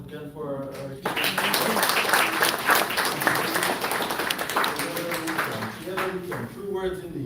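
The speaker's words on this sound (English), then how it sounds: "All right, another round of applause again for our" Applause at a charity fundraising evening with speeches, a round of clapping rising and running steadily for several seconds while someone talks over it at the start and end.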